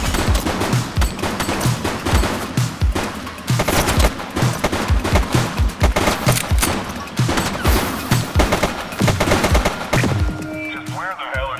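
Rapid bursts of gunfire from a police shootout in the video game The Precinct, dense overlapping shots and automatic fire crackling continuously with brief scattered game voices.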